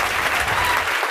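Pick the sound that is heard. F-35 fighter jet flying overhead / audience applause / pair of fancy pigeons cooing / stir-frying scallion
audience applause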